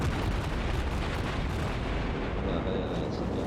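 Enemy ship guns fire in a naval war video game, a dense continuous barrage of booming blasts and rumble filling the whole stretch, loud and unbroken.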